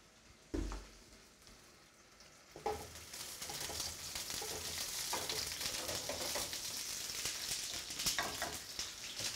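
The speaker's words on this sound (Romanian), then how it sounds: "Pun câteva roșii la prăjit." Tomatoes sizzle and crackle steadily in a hot pan, with a couple of soft clanks early on, the frying growing louder and holding as a constant hiss.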